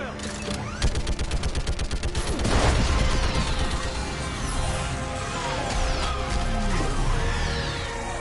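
Gunfire in the video game Mass Effect 3 Legendary Edition, a quick run of rapid shots followed by a heavy crashing blast and rumbling combat noise, loud and close, with voices talking over it.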